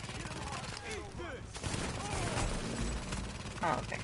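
Bursts of gunfire from The Division crackle amid game effects and voices, fairly quiet and mixed under talk.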